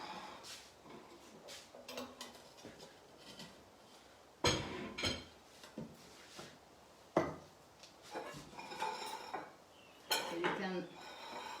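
A pan is handled while cooking saltimbocca, with clattering metal knocks, scrapes and a few sharp clanks spread irregularly, close by over soft kitchen background.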